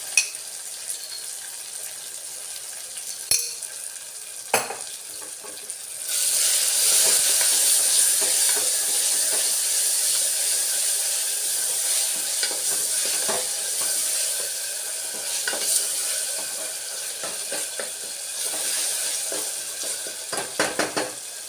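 Ginger garlic paste dropped into a hot pan for a flat bean curry. A few utensil clacks give way to a loud, sustained sizzling hiss that continues with light stirring scrapes.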